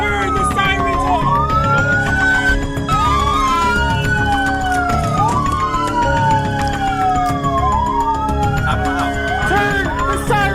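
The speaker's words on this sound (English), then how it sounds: "Turn the sirens off!" Police car sirens wail loudly and continuously during a high-speed chase, several overlapping rising and falling tones over heavy engine and road noise, with shouting voices mixed in.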